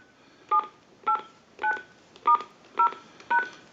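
Six short telephone keypad DTMF tones, evenly spaced and clear, are dialed on an AT&T 5500 phone into a line analyzer, each beep a brief dual-pitched tone against a quiet background hiss.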